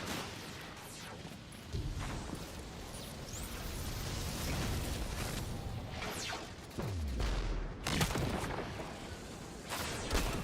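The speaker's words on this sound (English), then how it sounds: "I can try out this new scout rifle as well." Destiny 2 scout rifle shots ring out in bursts amid game combat, punchy reports with booming impacts and fading rumbles, moderately loud and spaced irregularly over a background hum.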